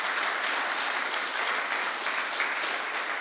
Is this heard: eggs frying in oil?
no